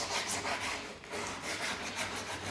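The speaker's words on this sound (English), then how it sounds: "Keep sanding" Sandpaper scrubs a wooden chopping board by hand in quiet, steady back-and-forth strokes, a soft rasping hiss repeating about twice a second with no talking.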